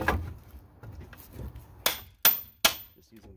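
A hammer and pry bar work loose wooden pallet boards outdoors, with three sharp, loud, evenly spaced strikes following a stretch of quieter creaking and handling.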